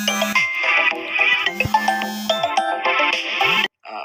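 An electronic doorbell at a hotel room door plays a loud, bright, stepped chime melody for about three and a half seconds before cutting off abruptly.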